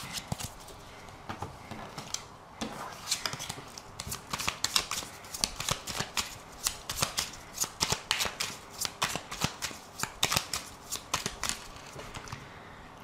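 Oracle cards are shuffled by hand in a quiet room, a long series of crisp, rapid riffling flutters repeating in bursts, close and soft, with no talking.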